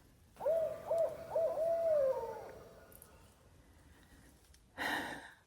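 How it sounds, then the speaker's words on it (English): An owl hoots several times in a quiet night-time outdoor setting by a pond in the White Mountains, with short calls followed by a longer drawn-out hoot, then a brief rustle near the end. "just got in the tent and I hear an owl"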